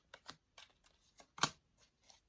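Tarot cards are shuffled in a few quiet, quick bursts of riffling and flicking, with short pauses between them and one louder snap near the middle, close up and alone.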